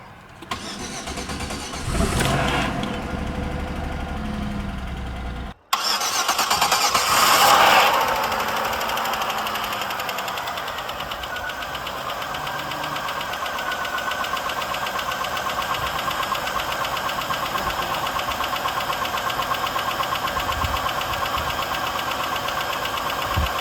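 A troubled Buick engine cranks and fires, then settles into a steady idle with a persistent knocking from a suspected failing rod or lifter, heard close and alone with no talk.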